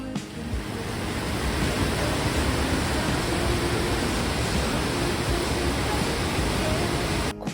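Waterfall and mountain stream in Nishizawa Gorge, a dense, steady roar of rushing, falling water heard close and loud, unbroken throughout with no talk.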